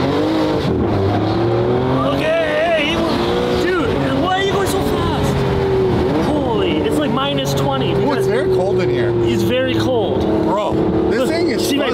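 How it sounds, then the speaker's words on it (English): A new supercar's exhaust roars while it is driven, the engine note rising and falling through revs over about twelve seconds, loud and close, with people talking over it. "I want to hear the exhaust"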